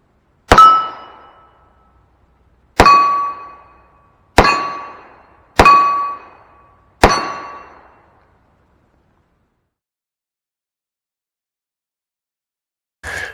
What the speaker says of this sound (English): So let's hit some steel and we'll do the chronograph, maybe shoot a group.